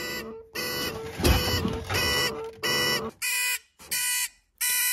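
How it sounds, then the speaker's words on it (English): Repeated electronic beeps from a Bülk velomobile's indicator beeper, loose and rattling inside the dashboard, in an irregular on-off pattern, each lasting about half a second, loud and close, with a buzzy, slightly rattly tone. "The indicator beeper makes weird noise."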